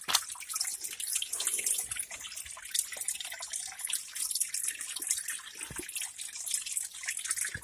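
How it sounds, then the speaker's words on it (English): A small stream on a Jamaican farm runs and trickles continuously, a soft, steady babble of water heard close up with nobody speaking. "A nice little stream still keeps when it come down."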